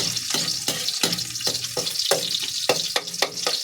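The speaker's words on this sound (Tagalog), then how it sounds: "So inuna na po natin yung bawang." Garlic sizzles and crackles in hot oil in a pan, a loud, close, continuous frying hiss broken by sharp bursts as it is stirred, heard alone.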